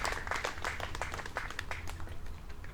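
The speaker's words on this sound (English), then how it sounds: "And applauding Leo" Spectators at a professional disc golf final clapping for a player, a dense, steady patter of many hands throughout the short moment, fairly close and without talk.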